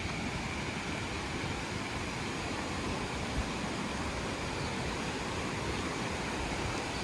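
A clear river flowing through a bamboo forest on a trek in Kerala. A steady, even rush of water hisses without pause, and no voices are heard over it.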